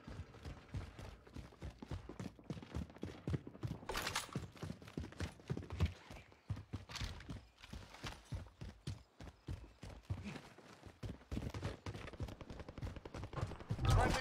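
Video game gunfire comes in rapid bursts of sharp shots, fairly close and punchy. The shots are scattered irregularly through the stretch, with brief pauses and a few heavier impacts between them.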